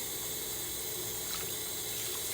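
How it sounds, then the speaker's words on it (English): Tap water running steadily into a measuring cup for a rice cooker, a constant close hiss and splash with no talk. "You're gonna take 3 cups of water because that's exactly the same amount of rice that you put into the rice cooker."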